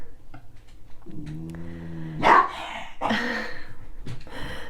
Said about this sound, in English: My dog's quarreling in the background.